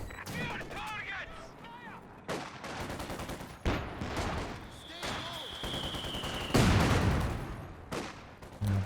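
Mortar shells fire and land amid a Company of Heroes 2 battle, several sharp booming impacts among scattered gunfire bursts, with one loud heavy blast standing out late in the sequence.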